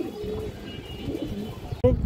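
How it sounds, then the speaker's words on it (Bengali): Female pigeon cooing in soft low tones, a few short coos near the microphone while a voice speaks over them, ending with a brief louder burst. "আর একটা খুব সুন্দর মাদি কবুতর আছে লাল গিয়ারের"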